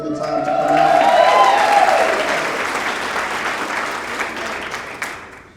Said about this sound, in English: y'all need to stop clapping